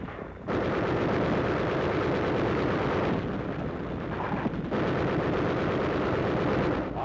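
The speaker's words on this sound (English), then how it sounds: "Machine guns cover a section of the advance as troops work their way to the top of a nearby ridge flanking Zebra Hill" Machine gun fire from 1945 combat on a ridge flanking Zebra Hill roars as a dense, continuous crackle of shots that starts abruptly and stays loud and unbroken for several seconds, with no voices.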